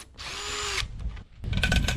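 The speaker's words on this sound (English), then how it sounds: "I brought our regular drill out. It's actually got a little bit more weight behind it, so it might help drill better too." A power drill bores a hole into barn kit timber with a dull bit, giving a loud high whine for about half a second. A short pause follows, then a rougher burst of grinding drilling.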